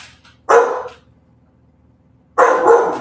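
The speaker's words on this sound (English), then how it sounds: "She's gone out of town, and I'm keeping her dog. But I didn't know he was going to start barking because I'm speaking." A house dog being looked after barks loudly and close by, two sharp bursts about two seconds apart, with silence between them.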